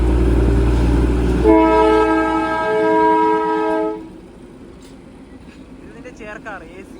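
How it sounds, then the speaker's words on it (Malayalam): A two-coach passenger train at NJP railway station sounds a loud, sustained horn blast for a few seconds as it starts pulling away, with low rumble before and a quieter rolling noise after the horn stops. "ഇതാ ട്രെയിൻ നിന്ന് എടുക്കുകയാണ്"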